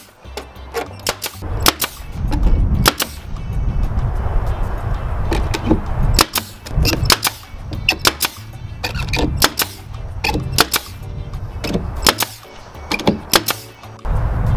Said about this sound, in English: we're gonna go ahead and staple this one and then do each board in succession